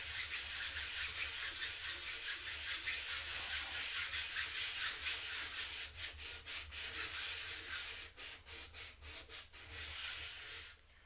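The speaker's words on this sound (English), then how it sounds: "Is the mic picking up the sanding like pretty badly" Continuous hand sanding rasps back and forth on a surface, loud and close, with the strokes turning into distinct rhythmic passes toward the end.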